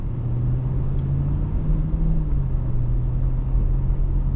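A 1999 Toyota Land Cruiser, a big, heavy body-on-frame SUV, cruises behind another car, its engine giving a steady low rumble and road drone that stays even and close throughout, with no talk.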